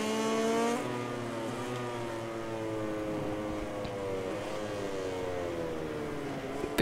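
A Suzuki racing motorcycle in the MotoGP 2020 video game: a steady, moderately loud engine whine that shifts pitch as the bike speeds up and slows through corners, with no one talking.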